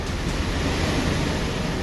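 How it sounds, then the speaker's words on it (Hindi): The Shipra river near Kainchi Dham, Nainital, swollen after two days of heavy rain, rushes past in a dense, loud, continuous roar of turbulent water, steady throughout with no voices. "नैनीताल में 48 घंटे से लगातार हो रही बारिश के बाद कैची धाम के पास शिप्रा नदी उफान पर है।"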